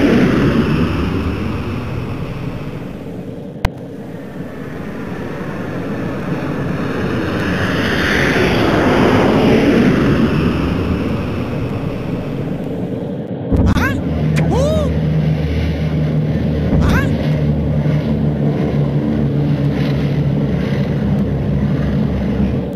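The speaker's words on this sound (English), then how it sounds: "Steer the rocket up and down so George doesn't hit other spacecraft on the way." Rocket flying in a Curious George space video game, a steady loud whooshing engine drone that swells and fades, joined midway by game sound effects and chirps.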